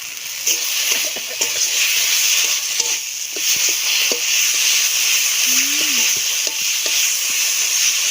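Crab frying in a pan with steady hiss and sizzle, broken by short stirring scrapes, close and continuous throughout.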